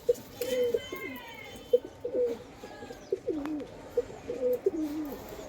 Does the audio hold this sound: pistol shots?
no